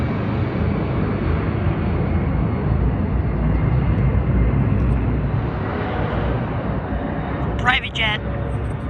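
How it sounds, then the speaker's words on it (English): A Delta Airlines Airbus A321 jet roars loudly and steadily at a foggy San Diego airport, its broad engine rumble filling the scene with a brief voice near the end. "Delta Airlines A321 serves to Minneapolis."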